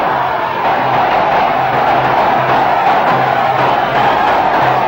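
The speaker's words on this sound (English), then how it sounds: "Brings the crowd to their feet." A packed stadium crowd at an India versus Pakistan cricket match roars and cheers loudly and continuously after Tendulkar hits a six, a dense, unbroken wall of voices with no pauses.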